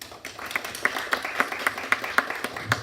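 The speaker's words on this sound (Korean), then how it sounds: "박수로 환영해 주시기 바랍니다." A small audience at a public-service forum claps to welcome a ministry official to speak, scattered individual hand claps with distinct sharp strikes in a loose rhythm, moderately close.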